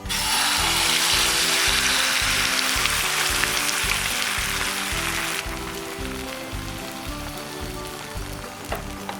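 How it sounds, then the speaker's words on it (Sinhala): Beaten eggs hitting hot oil in a pan for a cheese omelette, a loud steady sizzle that fades a little after a few seconds, with soft scraping beneath. "මම දැන් මේ හොඳින් මිශ්‍ර කරගත්ත බිත්තර ටික මේකට එකතු කර ගන්නවා."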